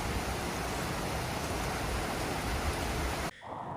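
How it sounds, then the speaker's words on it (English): Heavy rain pours down in Matsuyama, Japan, a dense, steady, loud roar that cuts off abruptly near the end, leaving a quieter background. "heavy rain fell in Matsuyama and Imabari cities on the 2nd"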